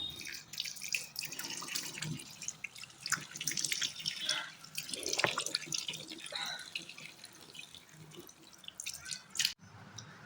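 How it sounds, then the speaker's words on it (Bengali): Tap water runs and splashes as a face is washed, a steady close trickle with drips and small splashes, fairly quiet and without talk. "তো দেখো এই যে মুখটা ধুয়ে নিলাম"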